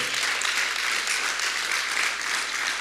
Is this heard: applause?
yes